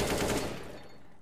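A short, fast burst of automatic gunfire in a first-person shooter video game, loud and then fading over about a second, with no talking.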